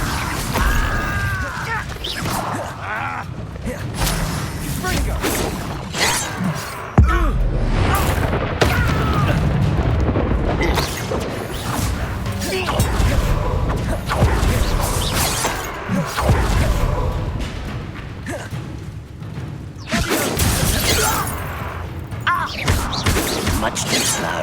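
Spell blasts from Confringo and Incendio in Hogwarts Legacy sound out as loud booming, crashing bursts with whooshes amid dense game combat effects, filling the whole stretch with repeated impacts under shouted spell calls.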